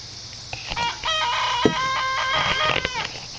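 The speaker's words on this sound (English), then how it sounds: "That's my big rooster." A rooster crows loudly and nearby, a long drawn-out cock-a-doodle-doo over faint background hum.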